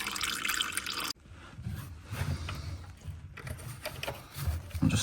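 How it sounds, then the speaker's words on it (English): Engine oil draining from a Mini Cooper S F56 during a service, a steady trickle and drip of liquid into a pan close by, with some light clattering. "I'll leave both of them draining out for now."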